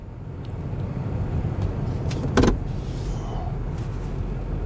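Inside a pickup truck cab on a morning outing for gas, a steady low idle-like rumble fills the space, with a brief louder whir or thump midway, no talk.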